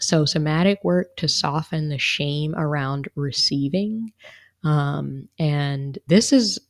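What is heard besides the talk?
No distinct noise like a dog, phone or traffic.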